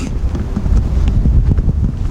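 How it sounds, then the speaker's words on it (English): Strong gusting wind buffets the microphone outdoors by a lake in Michigan in loud, low rumbles, with no voices heard. "It's very windy out today"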